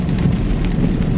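Heavy autumn rain pours down in a steady, dense, loud roar with no pauses and no voices.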